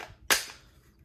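A Glock 17-round magazine dropping free from the pistol, a single sharp close clack that decays quickly.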